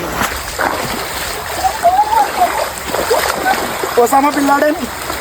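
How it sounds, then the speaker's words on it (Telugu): Water splashes and sloshes around as people wade through it on a walk toward a waterfall, with people talking over the splashing. "ఈ నీళ్ళలోనే రెండు కిలోమీటర్లు నడుచుకుంటూ వెళ్తున్నాం"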